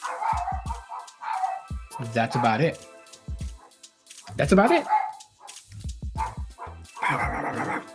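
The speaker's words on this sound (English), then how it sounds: "My dogs." Pet dogs bark and yip in short repeated bursts with whimpering between them, fairly close and loud, while someone talks over them.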